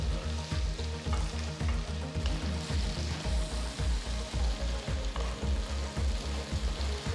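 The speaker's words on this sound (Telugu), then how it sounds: "చిన్నగా తరిగిన రెండు టొమాటోలు చీల్చిన 3 పచ్చిమిరపకాయలు వేసి బాగా కలపాలి" Two finely chopped tomatoes and three slit green chilies fry for an aloo methi curry while being mixed, giving a loud continuous sizzle with rhythmic stirring strokes and no talking.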